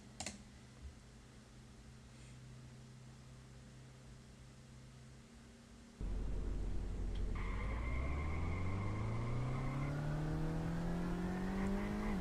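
A car engine in a winter racing video game starts at six seconds, its pitch sweeping up steadily as the car accelerates, loud and close. Before that there is only a low hum with a few faint clicks.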